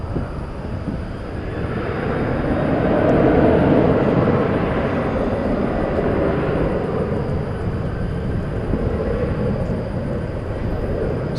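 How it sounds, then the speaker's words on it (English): Distant roar of a Boeing 767 airliner at a busy airport, a broad rumble swelling then easing and holding steady, with no voices over it. "Alright, we got some 767 action down there."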